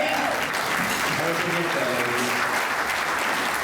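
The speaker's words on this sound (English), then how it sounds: "let's give a round of applause for that" Loud, dense applause from a large audience at a university commencement dinner, a continuous roar of clapping with a voice briefly audible underneath.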